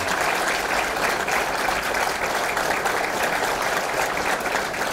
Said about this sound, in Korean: 박수로 만장일치로 채택해 주시기 바랍니다